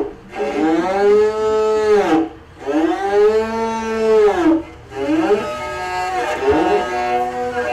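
A Tuvan igil played to imitate a cow mooing gives three long, loud, rich bowed tones, each swelling and bending like a low moo, with short pauses between them.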